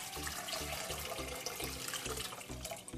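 Water pours steadily into a pot with a continuous splashing rush, close and moderately loud, with no voices.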